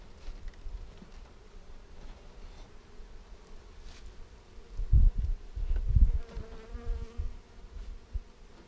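Honey bees buzz in a low, continuous drone close by, with louder swells as some pass nearer.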